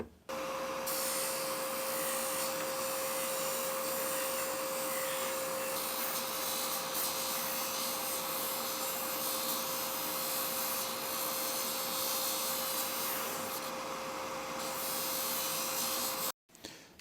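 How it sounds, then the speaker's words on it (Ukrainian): A bench sander drones steadily with a constant whine while wood grinds against it, running nearly without pause before cutting off abruptly. "зараз от на шліфувальному верстаті я от заокруглю"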